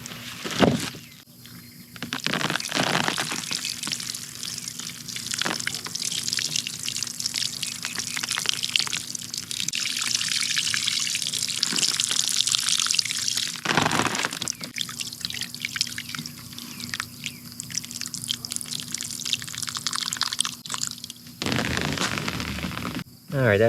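Water poured from a container into a carrot-growing bucket in a garden, a sustained splashing trickle that swells and fades with brief pauses, while a person talks over parts of it.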